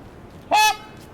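A single trumpeter swan call rings out once, a short loud nasal honk lasting under half a second, with a faint second note trailing after it against quiet background.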